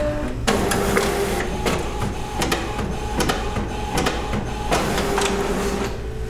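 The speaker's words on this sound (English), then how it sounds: "And you'll note that the nozzle check comes out, and there it is." A Conde Dyetrans 5050N sublimation printer runs a nozzle check, a continuous close mechanical whir with repeated clicking carriage passes and periodic clunks throughout.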